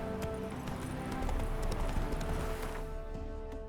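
The horse Roach gallops in The Witcher 3 with rhythmic clip-clop hoofbeats at a steady running pace, close and prominent, joined by ambient game sound.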